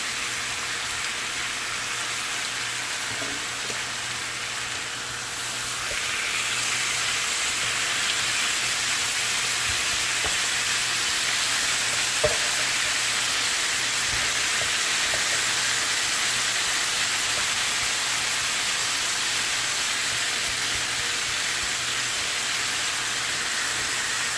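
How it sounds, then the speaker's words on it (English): Orange-glazed pork chops sizzle in a pan with a steady, close, hissing crackle that swells slightly after a few seconds and then holds evenly, with no talking. "I'm just going to let these cook with the glaze on them for another 5 minutes or so"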